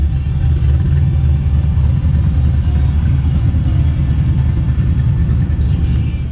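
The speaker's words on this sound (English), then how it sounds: "we're gonna make another run here back to back. This is against this Foxbody Mustang with a parachute" A car at a dragstrip during a drag race run between a Tesla Plaid and a parachute-equipped Foxbody Mustang, heard as a loud, close, continuous low engine rumble that holds steady without pause and with no talking.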